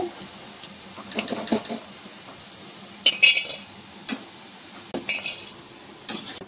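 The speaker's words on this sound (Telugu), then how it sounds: "ఈ విధంగా బాగా వేగిన తర్వాత తీసి ఒక బౌల్లో తీసేసుకోవాలి." Fried ivy gourd being scooped from a pan into a bowl, with a few separate bursts of spoon scraping and metal clinks against quiet pauses, close and clear, with no one talking.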